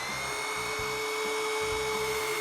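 A heavy-duty Widowmaker drill spins the oil pump of a rebuilt 350 engine with a loud, steady high-pitched whine and a low rhythmic chugging pulse beneath it, running alone.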